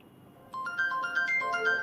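A phone rings with a short melodic electronic ringtone, a bright run of rising and falling tones starting after a brief quiet moment, heard alone.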